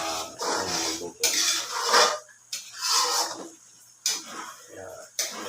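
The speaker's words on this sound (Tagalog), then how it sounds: "Kaya kailangan halo-halo lang yan, halo-halo para hindi dumikit." Spoon or spatula scraping and stirring chili oil in a metal pan, coming in repeated rasping strokes with short pauses, close and clear, while a person talks over it.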